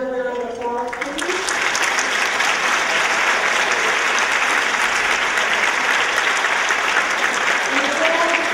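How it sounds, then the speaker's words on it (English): Sustained, loud applause from a large crowd at an awards luncheon, steady throughout, with a voice speaking briefly at the start and again near the end. "Please give all of our winners and all of our finalists and nominees another round of applause"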